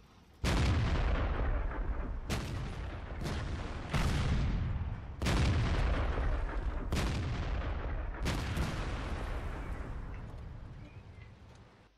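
Booming artillery fire in World of Tanks, a series of about six loud, heavy blasts spaced irregularly over a sustained rumbling battle backdrop, each impact sharp and full with a long decay.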